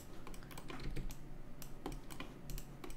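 Computer keyboard keys pressed while working in 3ds Max, a quick irregular run of close, light clicks and taps over a steady low background hum, with no talking.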